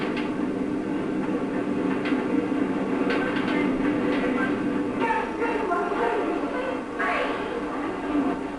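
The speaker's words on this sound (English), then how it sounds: "It runs in Seattle and is America's first and only full-sized commercial monorail" The Seattle monorail, America's first full-sized commercial monorail, hums and rumbles steadily as it runs, with scattered clanks and rattles over the continuous drone.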